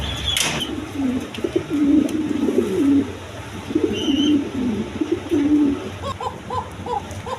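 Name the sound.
king pigeons cooing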